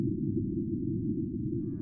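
A magnitude 4.6 marsquake recorded by NASA's InSight lander, the largest it observed, comes through as a continuous deep, rumbling low-frequency roar that stays even and loud throughout, with a faint tonal hum rising near the end.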